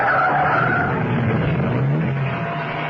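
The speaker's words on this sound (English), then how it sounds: "Steed braked, swerved, and pulled off the road." Car tires skid and squeal as a car brakes hard and swerves off a road, a loud continuous screech that fades slightly over a few seconds.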